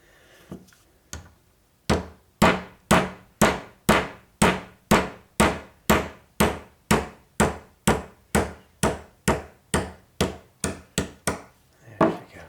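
Steady metal-on-metal hammer blows drive a socket to seat a part in an MGA/MGB three-synchro gearbox, about twenty sharp, evenly spaced strikes after a few tentative taps, close and loud with no talking.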